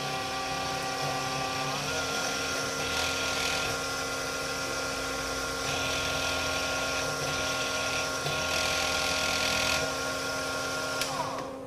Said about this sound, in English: stir the contents vigorously on a vortex mixer